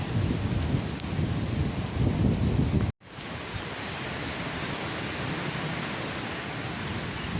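Rain falling in a village after a windstorm, a dense, steady roar that cuts out abruptly for an instant and then resumes slightly softer.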